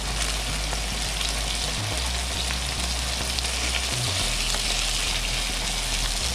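Fish and potatoes sautéing in a pan give a steady, even sizzle of frying with a constant crackle and faint occasional stirring thumps, close and unbroken for the whole stretch.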